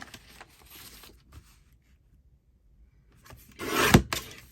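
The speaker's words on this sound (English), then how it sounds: "I'm going to trim the middle bit off and then glue it back together." Paper for a large journal is trimmed, with faint rubbing at first, then a louder, close scraping cut toward the end.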